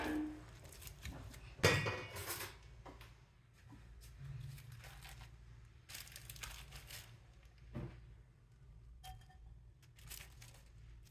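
Boiled potatoes are pressed and mashed through a metal strainer, with soft close-up squishing and scraping, a louder clink near the start, then faint rubbing and crushing strokes at a quiet level.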